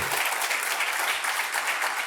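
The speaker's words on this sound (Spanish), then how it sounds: "Se vale un aplauso bien duro ahí para eso." A church congregation in Barcelona claps hard, a brief burst of dense, steady applause filling the room without pause.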